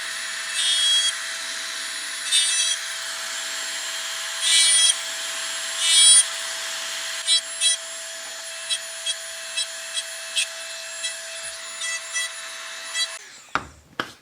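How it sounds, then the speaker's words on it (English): Cutter freehand chamfering and deburring material, a steady high whine under a series of short rough scraping bursts that grow quicker and briefer, ending with a few faint knocks. "Even freehanding a chamfer this way is a very quick way to get a clean chamfer compared to filing."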